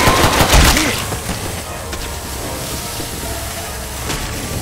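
Gunfire in Counter-Strike on the Office map: a loud burst of rapid shots in the opening second, then a lingering rumble of distant fire with a faint crack near the end, no voices.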